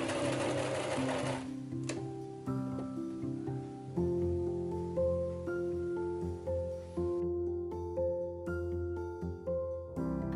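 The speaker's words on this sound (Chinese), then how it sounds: "把需要缝的两块布料对齐，放到机针下面，放下压脚，夹稳布料" A sewing machine stitches two aligned pieces of fabric for a plush toy, its motor whirring close and steady with rhythmic bursts and brief pauses between runs.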